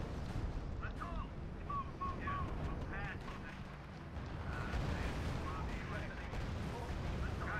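Rumbling artillery and gunfire from the strategy video game R.U.S.E. fill the battle, dense and continuous. Radio-style voices and short tonal calls sound over it.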